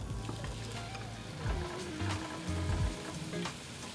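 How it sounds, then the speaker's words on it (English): Pork belly sizzles in hot oil in a pan, a dense crackling fry with occasional stirring clatter and bursts of spatter, close and steady. "Just let that pork sizzle away for a little while."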